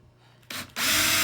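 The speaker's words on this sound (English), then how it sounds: "So what I'm going to do is I'm going to drill some small holes" A power drill boring small holes for zip ties while heat panels are mounted, a short burst and then a louder steady whine of the bit cutting into the panel, close and alone.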